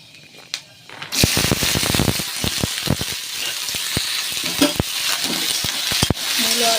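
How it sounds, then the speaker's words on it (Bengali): Potato and radish chunks sizzle and crackle loudly in hot oil after a near-silent start, with sharp spattering pops and stirring scrapes running steadily throughout. "দিয়ে আমি আলু মূলোটা ভালো করে ভেজে নেবো"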